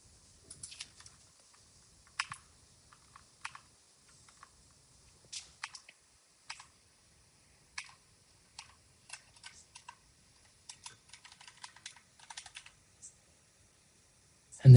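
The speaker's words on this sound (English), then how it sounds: "I should type that momentum" Someone types on a computer keyboard in irregular bursts of quiet, close key clicks separated by brief pauses, with a louder thump at the very end.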